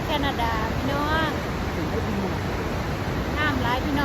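The Canadian side of Niagara Falls gives a constant, loud roar of crashing water that fills the whole stretch, with a person talking over it.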